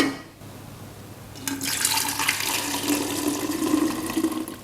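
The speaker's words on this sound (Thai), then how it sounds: "กดลงเลยค่ะ แล้วเราก็มาเทใส่เหยือกเอาไว้นะคะ" Brewed tea, a 40 g to 450 ml strong batch, poured from a press into a jug, heard as a steady close liquid stream that begins after a brief lull and runs continuously to the end, with no talking.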